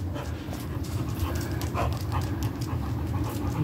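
English Pointer panting steadily and close during a fetch game outdoors, a continuous quick breathy rhythm with some background noise and no talk.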